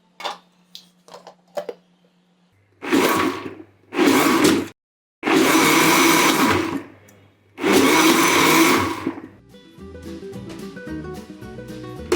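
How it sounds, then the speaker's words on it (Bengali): A kitchen blender purees boiled beetroot in several loud, close whirring bursts of a few seconds each, separated by short pauses, with faint clicks and handling before and soft music afterward. "একটু ঠান্ডা হইলে ব্লেন্ডার করে আবার সেকে নিব"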